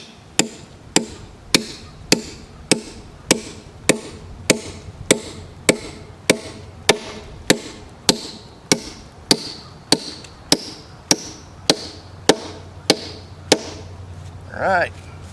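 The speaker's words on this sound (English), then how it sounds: "this is a hardened nail and you have a hardened hammer" Hardened nails driven with a hardened hammer into cedar log timbers for a log bridge: about two dozen sharp, evenly spaced blows, close and loud, keeping a steady rhythm, with a brief different sound near the end.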